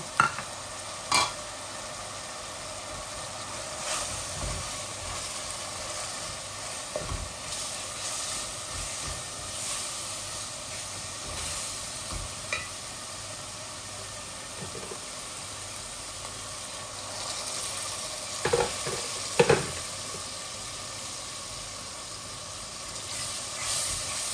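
Half-cooked onions with chili and mixed spices, including panch phoron, hiss and sizzle steadily in a pan, with intermittent scraping and knocks of stirring at moderate volume.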